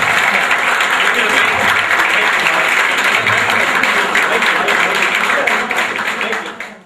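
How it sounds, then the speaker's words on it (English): An audience at a school get-together applauds loudly in a dense, continuous burst of clapping that holds steady and then fades at the end. "applause."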